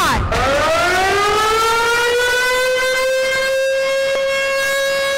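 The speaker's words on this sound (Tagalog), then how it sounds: "sabay-sabay na pinatulog ng mga opisyal ng pamahalaan ang sirena" A civil defense siren sounded for an earthquake drill, starting with a sharp rising wail that settles into a loud, sustained steady tone held for several seconds.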